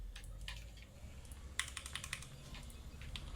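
Keys clatter in quick, uneven bursts of typing on a computer keyboard during a Halo Wars 2 multiplayer session, close and fairly quiet, with one sharper keystroke near the middle and no voices.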